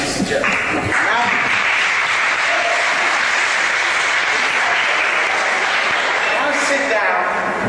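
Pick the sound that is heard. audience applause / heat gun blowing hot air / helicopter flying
audience applause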